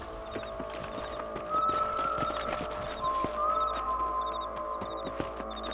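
Horse hooves clip-clop steadily in Red Dead Redemption, a close, regular rhythm of hoof falls with a neigh or two rising over faint game ambience and a high chiming background tone.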